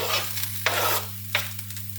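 Onions and eggplant sizzle in olive oil in a covered pan, a steady low frying hiss with two sharp stir scrapes, all under a constant low hum from the stove.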